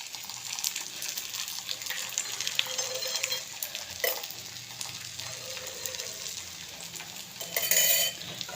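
Methi dhapate flatbread frying in oil on a griddle, a steady close sizzle with soft crackles and occasional stirring or scraping, swelling louder near the end, no voices.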